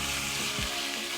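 Coarsely chopped onion fries in hot oil for Libyan mbakbaka. A dense, loud, continuous sizzle plays alone with a brief low scrape in the middle.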